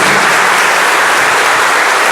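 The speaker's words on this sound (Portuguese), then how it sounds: "Com toda a força do seu coração, aplauda as famílias de Deus." A church congregation claps in a brief, loud, dense burst of applause lasting about two seconds.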